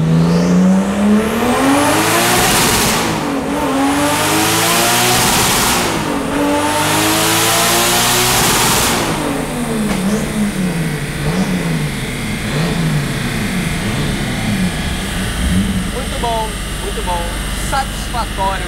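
A Nissan Skyline R34 engine revs hard up through the gears, with rising howls cut by sharp shifts, then settles and drops away. People talk nearby.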